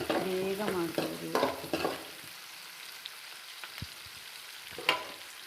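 Onions sautéing in a pan for lemon chitranna, a few scraping stirs and a soft sizzle up front, then a quiet, faint frying hiss with an occasional clink near the end.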